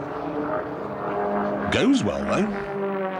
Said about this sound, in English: This airplane's capable of running about 310 to 312 miles an hour straight and level on 100 horsepower.